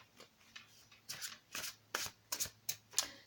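Tarot cards are shuffled by hand, giving close, crisp riffling bursts in an irregular rhythm with brief pauses between strokes.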